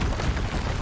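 Incendio fire spell cast in the Hogwarts Legacy video game, a dense, roaring burst of fiery noise with a deep rumbling low end that holds steady and loud for under a second.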